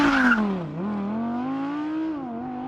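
An Audi R8 engine revving hard at a launch control start, a loud close roar whose pitch dips, then climbs and holds steady as the car pulls away.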